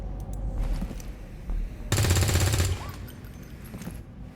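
Weapon fire in XCOM 2 Long War of the Chosen, a loud sustained burst of rapid automatic shots lasting under a second, with a faint ringing tail and quieter game ambience around it.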